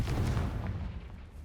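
Confringo blasting spell going off in Hogwarts Legacy, a short burst of booming explosive noise with a crackling, fading tail.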